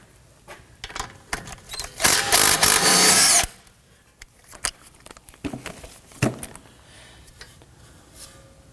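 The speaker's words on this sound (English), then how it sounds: "Using a 17mm socket, we're going to go ahead and loosen and remove the nut holding the upper portion of our sway bar end link to the strut." A power tool with a 17mm socket loosens the upper sway bar end link nut on a 2018-2024 Toyota Camry strut, giving a loud whirring burst of about a second and a half amid scattered clicks and clanks of tool handling.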